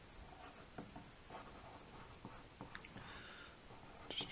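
A pencil sketching on paper makes faint, close scratchy strokes in short irregular bursts, soft and dry with no voices.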